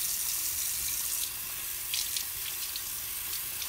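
Tap water running steadily into a sink while a face mask is rinsed off, a close, even hiss with a few small splashes and no voices.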